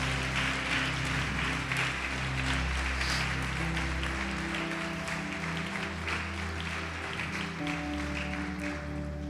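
Church congregation applauding during a worship service, a dense steady wash of clapping under sustained music or organ tones throughout.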